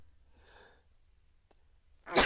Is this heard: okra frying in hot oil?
no